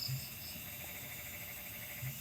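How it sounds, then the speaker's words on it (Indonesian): Crickets chirp at night in a faint, steady drone with soft pulsing trills, quiet and distant throughout. "jangkrik."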